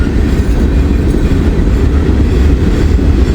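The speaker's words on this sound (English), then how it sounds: "Come on, I've had enough of slow trains." A single locomotive hauls a slow-moving train past at close range, with a steady loud rumble and faint rhythmic clatter of wheels throughout, no voices.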